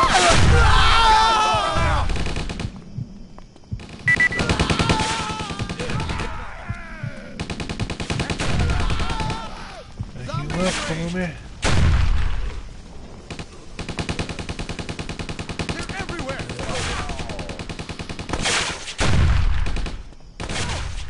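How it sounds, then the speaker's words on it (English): Repeated bursts of gunfire laying down cover fire in the zombie video game Stubbs the Zombie, loud and close, broken by short pauses and mixed with shouting, groans and game voices. "Laying down cover fire!"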